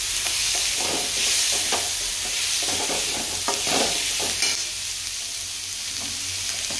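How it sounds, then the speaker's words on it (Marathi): Shredded cabbage sautéed in a hot pan, a continuous loud sizzle with repeated scraping and tossing strokes of a spatula, close up and without voices. "मी आता पत्ता कोबी घातलेला आहे. त्याच्यामध्ये परतून घ्यायचं."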